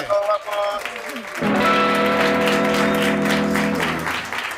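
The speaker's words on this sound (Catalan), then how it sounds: "que no decaigui aquest aplaudiment" Live studio audience applauding at a Catalan comedy show, a sustained, loud wash of clapping that swells and holds steady after a brief spoken opening.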